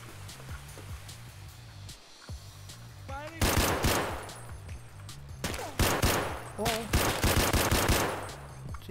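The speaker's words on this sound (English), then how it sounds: "Someone's shooting something in there." Gunfire in the video game Escape From Tarkov, with loud rapid automatic bursts and scattered shots erupting in two dense clusters after a quieter opening.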